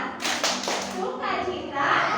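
A group of small children at a Sunday kids' service claps a quick patterned rhythm, sharp hand claps bunched near the start, mixed with children's voices and chatter in a lively indoor room.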